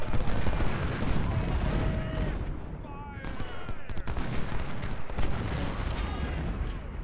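Massed gunfire from Ultimate General: Civil War, a dense, continuous crackle of carbine and musket volleys with booming bursts, loud throughout, with a voice talking over it.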